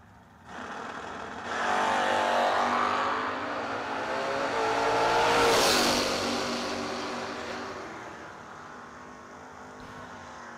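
Drag race cars, a 1989 Dodge Daytona and a Camaro, roar up loudly at a drag strip, engines building to a peak around the middle before fading away, with no talk.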